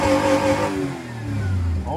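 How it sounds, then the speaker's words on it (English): A 1995 Dodge Caravan SE engine is revved hard then falls back, its pitch sweeping downward before climbing again, loud and close. "let's just bounce it off the red line"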